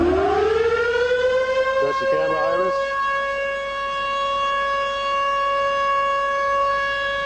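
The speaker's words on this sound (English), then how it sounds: "Stand by for test. NKP2, Q01, 1A001 on the countdown. Siren on." A loud siren winds up and holds a steady wailing tone before a test firing, with a brief countdown voice speaking over it early on.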